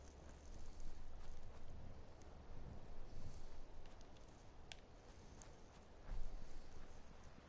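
Hooves of a rad stag clop softly over the ground in Fallout 4 survival mode, a faint, irregular walking patter under low ambient game noise, with one louder step near the end.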